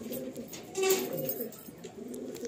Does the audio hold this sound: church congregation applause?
no